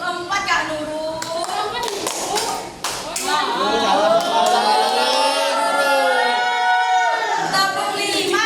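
A primary-school class claps together in counted patterns, giving bursts of sharp, group clapping in changing rhythms. A teacher's voice and children's chanting are heard throughout.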